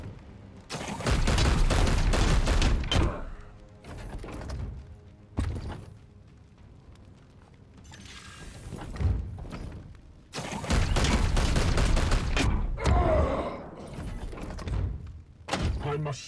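Gunfire volleys in Warhammer 40,000: Chaos Gate - Daemonhunters, loud bursts of rapid shots with heavy thuds arriving in several separate clusters, with quieter gaps and a voice talking between them.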